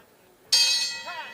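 A boxing round bell struck once at ringside during a professional fight, a bright metallic clang with a long ringing decay, loud and clear after a brief quiet moment.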